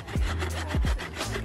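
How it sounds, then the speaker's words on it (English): A hand saw cuts through the trunk of a Christmas tree in repeated rough back-and-forth strokes, with low thumps between them, close by and steady. "Daddy's sawing."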